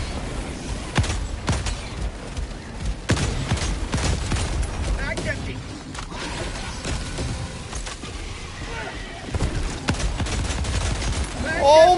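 Gunfire in the shooter game Helldivers 2 crackles in rapid, repeated bursts and volleys, loud and close, with brief pauses between strings of shots and a faint voice mixed underneath.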